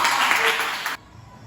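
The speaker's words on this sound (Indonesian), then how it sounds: "tepuk tangan untuk Deko." Students in a classroom break into a brief burst of clapping, about a second of dense applause that cuts off abruptly into quiet room tone.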